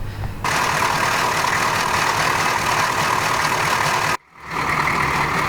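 Steady, loud drone of the diesel engine in a 1985 K5 Chevrolet Blazer running, with one brief dropout before the rumble resumes.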